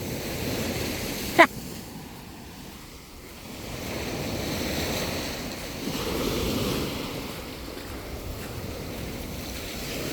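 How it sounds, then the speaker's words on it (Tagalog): Large waves break steadily on a natural beach at Mataró outside Barcelona, a continuous rolling surf roar with wind buffeting the microphone and no clear talk. "Lalaki na ng alon, no."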